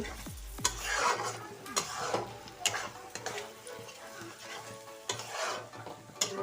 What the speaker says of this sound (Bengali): আদা রসুন পেঁয়াজ হলুদ গুঁড়া লঙ্কা গুঁড়া জিরা গুঁড়া সব আমি একসঙ্গে দিয়ে ভালো করে মশলাটাকে কষবো